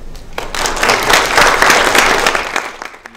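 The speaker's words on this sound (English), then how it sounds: "Please give a round of applause for Dr. Ruzyllo" An audience applauds a guest lecturer, Dr. Ruzyllo, at a semiconductor nanotechnology talk, a brief burst of clapping that swells quickly, holds, then fades out.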